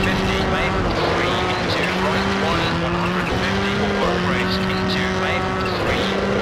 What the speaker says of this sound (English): I'm constantly just hitting the rev limiter and stuff